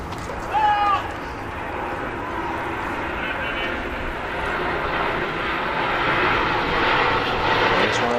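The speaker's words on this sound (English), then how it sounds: "It's one of those airplanes you talked about." Airplane passing overhead at an outdoor wheelchair tennis tournament, a steady broad engine roar that slowly swells over several seconds, fairly distant, with a brief higher sound near the start.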